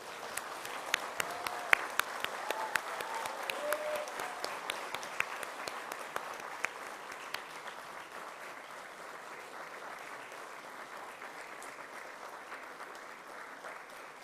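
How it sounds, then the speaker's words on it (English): A standing audience at a business school graduation ceremony for advanced management programmes applauds. The clapping is crisp and builds in the first seconds, then settles into a softer, sustained patter of many hands that fades toward the end. "give them a very big round of applause"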